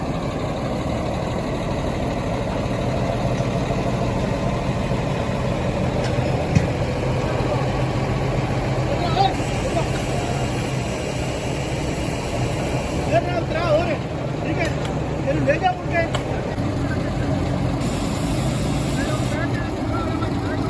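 A concrete mixer truck rumbles and idles steadily while it is moved into place at a bridge construction site. The low engine drone goes on throughout, with faint clanks and people talking over it.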